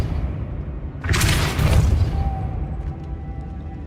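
A Depulso force spell cast in the video game Hogwarts Legacy lands as a single loud, booming burst with a sharp onset, fading over about a second into a faint tonal hum.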